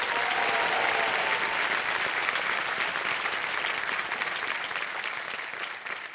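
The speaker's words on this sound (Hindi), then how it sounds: "तालियां बज जाए इनके लिए।" Sustained applause from a game-show studio audience during a KBC quiz broadcast, a dense, steady wash of many hands that holds loud throughout and eases slightly toward the end, with no talk over it.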